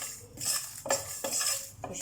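Ingredients for tamarind chutney stirred in a pan over a low flame, with repeated metal clinks and scrapes of a spoon against the pan at a steady rhythm, close and fairly loud, with no talking.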